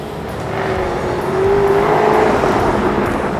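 A 2014 Jaguar F-Type's engine revs steadily close by, a deep broad roar that swells slightly in the middle and holds without pause.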